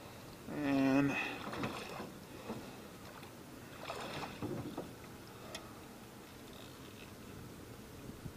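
Oars working a small boat while trolling on open water, faint knocks and splashy strokes at a distance over a steady outdoor hush, with one louder burst early on.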